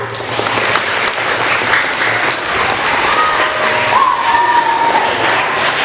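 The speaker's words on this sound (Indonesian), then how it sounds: "Beri tepuk tangan dulu yang meriah" Hearty applause from a school audience at a student council debate, a loud continuous roar of clapping with faint tonal sounds drifting above it near the end and no speech.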